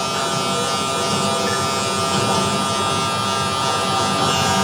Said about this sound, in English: Hear the clipper.